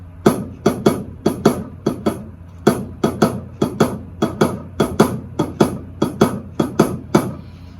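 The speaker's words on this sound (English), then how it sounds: "you basically are playing 8th note triplets on the hi-hat" A drum kit plays a swung shuffle groove, with crisp eighth-note-triplet hi-hat strokes in a steady lilt over kick and snare.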